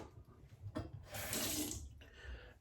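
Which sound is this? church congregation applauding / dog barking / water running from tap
water running from tap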